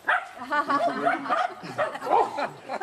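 Casey the dog barking and woofing close by in a quick irregular run of loud barks, some sounding like excited vocal yips.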